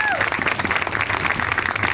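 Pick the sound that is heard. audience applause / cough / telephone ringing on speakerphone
audience applause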